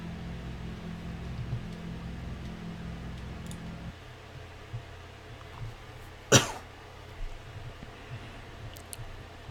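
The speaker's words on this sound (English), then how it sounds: "Pardon the coughing." A person coughs once, sharp and close, against a quiet background of low electrical or fan hum. The hum drops in level partway through.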